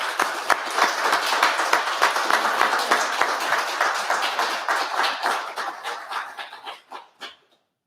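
Audience applause at a graduation awards ceremony: steady, dense clapping from a crowd that fills the room for about six seconds, then thins and dies away to a few last claps before silence.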